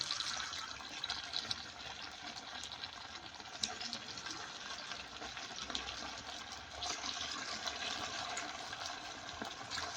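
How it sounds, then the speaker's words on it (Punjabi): Sabudana vadas dropped into hot mustard oil give a continuous dense hiss of frying, steady and fairly close for the whole stretch, with no voices over it. "ਤੇਲ ਵੀ ਆਪਣਾ ਇੱਧਰ ਹੋ ਗਿਆ ਜੀ ਗਰਮ ਤੇ ਹੁਣ ਇਹਦੇ ਵਿੱਚ ਪਾਵਾਂਗੇ ਜੀ ਆਪਾਂ ਵੜੇ"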